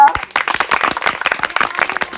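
A group of people clap together in a quick, dense burst of applause, loud and close, lasting a couple of seconds.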